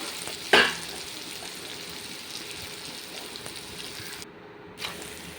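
Sliced onions and coconut pieces fry in a pan for a Kerala-style beef roast, giving a steady low sizzle with one sharp stirring scrape near the start, heard close up with no talking.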